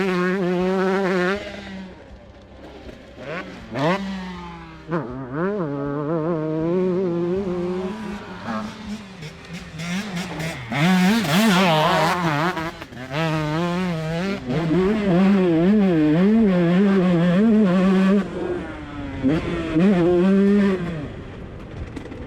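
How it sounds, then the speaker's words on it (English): A carbureted 2023 GasGas 125 two-stroke dirt bike on a fast lap, engine revving up and down continuously through gear changes, loud and close throughout. "The second hot lap then, we're on the GasGas, the carbureted bike for today."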